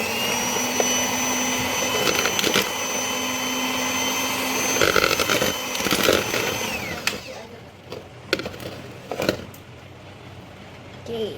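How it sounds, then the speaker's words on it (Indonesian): Electric hand mixer beating granulated sugar and brown sugar for chocolate chunk cookie dough, a steady close whirring drone that runs for several seconds, then stops into quieter clatter with brief bursts of speech. "terus kita aduk pakai mixer."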